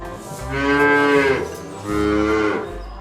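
A cow on a farm gives two long, loud, close moos, each with a rising then falling pitch and a short gap between them, with no one talking.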